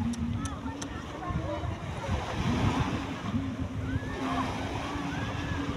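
Ocean waves wash steadily onto the shore at a beach resort in Naic, Cavite, a continuous surf roar mixed with wind buffeting the microphone, while people talk over it throughout.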